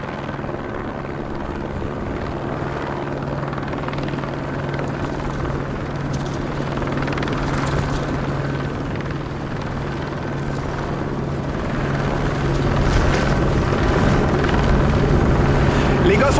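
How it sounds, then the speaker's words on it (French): A helicopter hovers in place over a snow-covered wood, its steady low rotor drone continuous and fairly loud throughout, swelling slightly toward the end. "L'hélicoptère fait du sur place."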